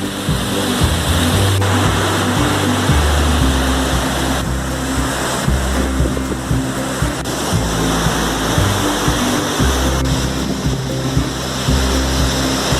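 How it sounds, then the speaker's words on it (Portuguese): Heavy post-rain waterfall at Cachoeira do Ó in Horto, Rio de Janeiro, a dense, steady roar of rushing water filling the whole clip, loud and continuous with a low rumbling undertone. "Acabei de chegar aqui na cachoeira."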